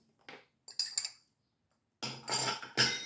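Spoon scraping and clinking against a bowl while stirring flour, spices, salt and yeast together, a few short separated strokes followed by louder, busier scraping, close up and with no voices.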